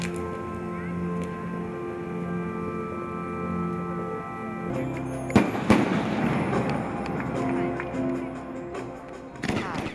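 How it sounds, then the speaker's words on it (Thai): Celebratory fireworks launched into the sky at a Father's Day event in Thailand, several sharp pops and crackling bursts heard at a distance over a steady hum of background music and crowd noise. "ได้ยินเสียงจุดพลุด้วย ตุ้ม ๆใช่เสียงดังมากเลย"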